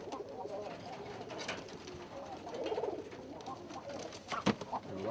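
Pigeons cooing in a loft, soft rolling coos repeating steadily at close range over a low background murmur, with a louder burst near the end.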